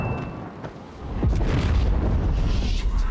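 Explosions in a nighttime attack scene from The Last of Us TV series, heavy low booms swelling after a quieter start and rumbling on continuously, with scattered sharp bursts.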